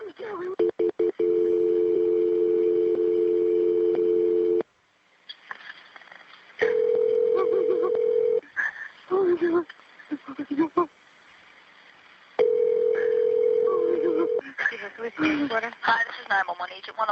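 During a 911 call transfer to police, a steady, loud telephone line tone sounds in three stretches, the first lasting several seconds. Short gaps and clicks separate the stretches, and speech-like line noise comes and goes between and after them.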